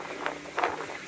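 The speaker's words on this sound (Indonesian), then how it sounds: "Kecepatan angin sedemikian rupa" Strong wind on a mountain summit buffets the microphone in uneven gusts, with two sharper blasts standing out over a steady rough rumble.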